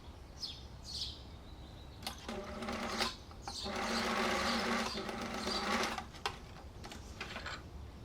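A sewing machine stitches fabric facings together for an apron dress, running in several mechanical bursts of stitching with short pauses between, the longest run in the middle, close and steady with no voices.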